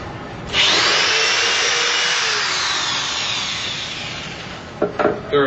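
A power drill boring a hole through 3/4 inch plywood, a loud, close, continuous grinding whine lasting several seconds that slowly fades, then a few short knocks as it stops.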